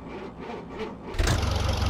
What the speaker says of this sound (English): Listen to that crank up again.